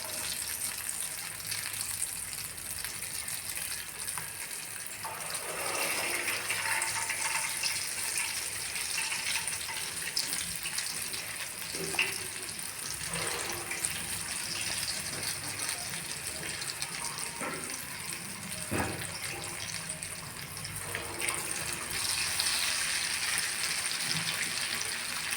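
Purnalu, batter-dipped, frying in hot oil: a steady, dense hiss of bubbling fills the whole stretch, with a few brief clatters and scrapes rising above it and no voices.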